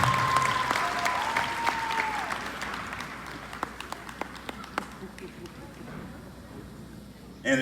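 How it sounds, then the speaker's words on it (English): Audience applause at a middle school Black History program honoring an award recipient, broad clapping that fades over several seconds with a few sharper claps standing out, while a voice speaks over the start. "Let's give him a round of applause."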